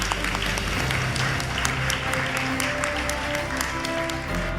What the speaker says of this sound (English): One more round of applause for BGM.